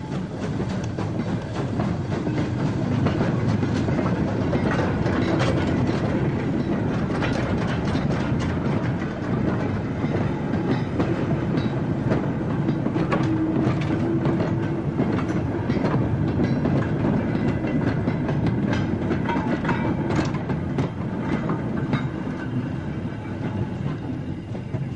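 British Railways steam locomotive 76079, built at Horwich in 1957, runs past with a continuous loud rumble and rhythmic clatter of wheels and carriages that stays steady and close for the whole stretch.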